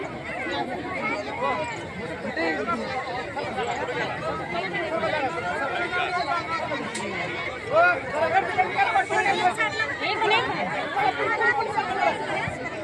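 A crowd packed at a gate chatters continuously in a dense, steady babble of many voices at an outdoor public gathering.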